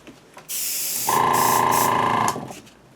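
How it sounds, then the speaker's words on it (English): An airbrush sprays thinned, translucent paint (about six parts ISO to one part paint) onto an Indiana Jones Nurhachi prop, a close steady hiss that starts abruptly, rises to a stronger tone for a second or so, then cuts off. "we are going to spray the upper section of this from a distance"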